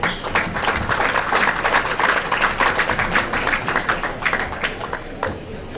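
Crowd clapping for a shot in an 8-ball pool tournament final, a dense close patter of applause that holds steady for several seconds before easing off, no talk over it.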